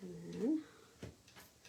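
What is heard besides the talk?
cat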